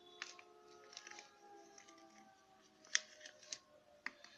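Scissors snip through a SIM card package in a few faint, close cuts, sharp clicks spaced over a few seconds in a quiet room.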